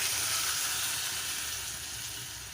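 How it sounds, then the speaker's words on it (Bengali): Steady broadband sizzling of a vegetable curry with drumsticks frying in a pan, water being added from a bowl, a continuous close hiss that eases slightly toward the end. "দু মিনিট কষিয়ে নেওয়ার পর আমি এই বাটির 1 বাটি জল এর মধ্যে দিয়ে দেবো।"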